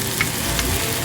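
Garlic sizzling in a heavy-duty wok, a brief close burst of continuous frying hiss with a couple of small stirring clicks.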